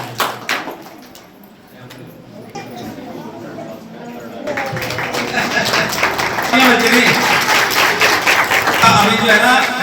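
Loud applause from an audience cheering children being honoured at a Dr. B.R. Ambedkar Jayanti ceremony in Lohara Ladwa, claps swelling from scattered to a dense, sustained roar with voices mixed in.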